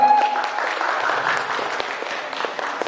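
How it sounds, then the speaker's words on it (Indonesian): Sustained applause from a debate audience fills the room, a dense, steady clapping that carries loudly from start to finish with no break. "Mari berikan tepuk tangan sekali lagi untuk tim."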